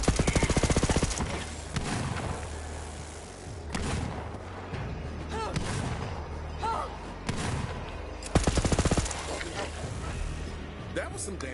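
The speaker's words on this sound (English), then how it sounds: "That was some damn fine shooting" Rapid bursts of automatic gunfire in the video game Borderlands 3, loud opening and closing volleys with scattered shots and thuds between, under a talking voice.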